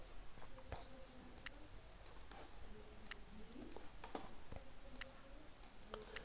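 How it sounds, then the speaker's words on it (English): Sharp little clicks from a computer mouse come quietly in scattered pairs and singles against a faint room hiss, with no talking. "double click on that"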